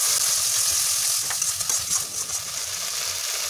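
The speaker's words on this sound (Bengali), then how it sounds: "এবার আদাটাকেও ওই বাকি মশলার সাথে ভালো করে মিশিয়ে নিয়ে একটু অল্প কষিয়ে নিতে হবে।" Ginger sautéing with spices in a pan for an easy egg curry: a steady frying sizzle with occasional stirring scrapes and clinks, close up, with no talk.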